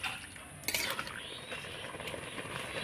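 Raw mango pieces stirred in sugar syrup in a pan, a quiet close scraping of the spoon with a couple of clinks and a faint simmering bubble underneath.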